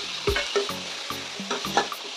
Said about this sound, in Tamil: அதையும் இந்த வெங்காயத்தோடு சேர்த்து நல்லா வதக்கி விட்டுலாம்.